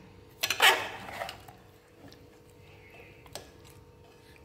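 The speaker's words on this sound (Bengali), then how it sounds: "এখন নেড়ে সব কিছু দিয়ে নেড়ে ভালো করে ঢেকে দেবো।" A spoon clatters loudly against a pot as chicken curry is stirred, with a few softer knocks and a lid-like clink afterward, against a quiet kitchen background.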